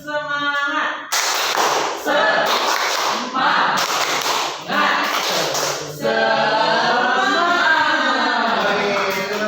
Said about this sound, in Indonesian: Ayo teman-teman, tepuk semangat.